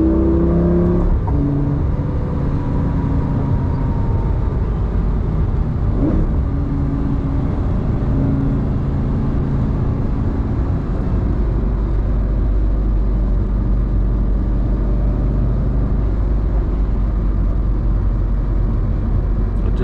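A Lamborghini Gallardo engine runs loud and steady throughout, revving and droning at close range with a continuous rumbling growl and no talk.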